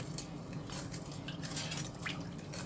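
Maja blanca being stirred nonstop in a pot, a faint, close run of light scraping and clinking of the spoon against the pot with no talking.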